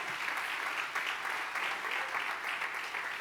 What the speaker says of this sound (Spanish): Denle un buen aplauso de alabanza al Rey de Gloria